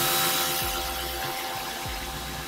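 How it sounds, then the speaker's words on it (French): Kärcher pressure washer spraying a car wheel rim between the spokes: a continuous hissing water jet over a pump drone, with a few short low thumps, close and alone. "On remet un coup de Karcher et ça devrait être bon hein."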